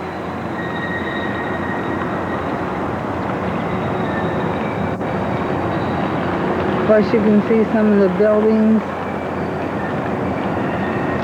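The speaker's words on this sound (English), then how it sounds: "there is a train that is moving, as you can hear the squeak" A train rolls slowly along tracks near the Galveston and Bolivar area of Texas, a steady low rumble broken by a short run of wheel squeals, with someone talking over it.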